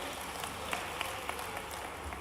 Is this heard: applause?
yes